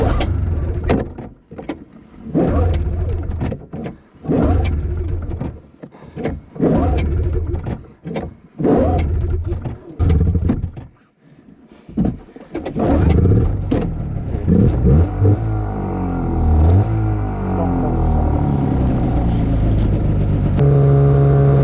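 A cheap used snowmobile engine revs in repeated loud bursts, then settles into a sustained, rising roar with clattering, close by and with no talk.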